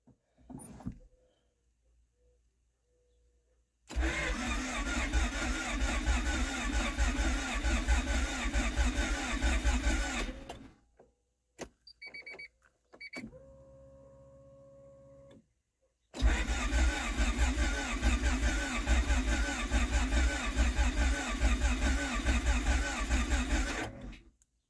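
A Honda H23 VTEC engine, newly installed in a wagon, cranks and catches, then runs at a steady roar. It cuts off, there are clicks and a brief tone, and the engine starts again and runs.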